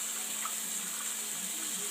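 Water is poured into a small bath for a pet bird, giving a soft, steady trickle and hiss at low volume, with no talking.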